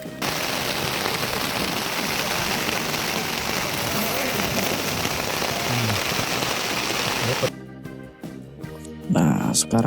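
Steady rain hisses densely over a lakeside campsite in a misty, rainy season, loud and continuous, ending abruptly in a few seconds of louder mixed noise near the close.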